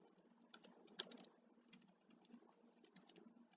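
Keys tapped on a computer keyboard in a few quiet, irregular bursts, with a couple of sharper clicks standing out, close and faint against a low background hum.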